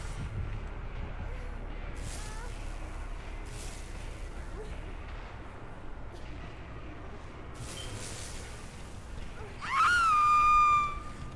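A downed video game character lets out a sharp, high scream near the end, rising over a low rumbling ambient background with faint whooshing bursts earlier on.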